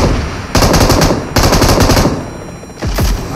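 Automatic weapon fire in PUBG Mobile heavy-weapons mode: three loud, rapid bursts of gunfire separated by short pauses, with no voices over the shooting.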